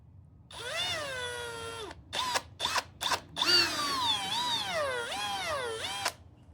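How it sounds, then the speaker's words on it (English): A power drill bores into the center post of a Dainese Smart Jacket LS Sport button with a close, loud whine: one long steady run, several quick bursts, then a longer run whose pitch wavers up and down as the bit works. "I'm going to drill just into that center post"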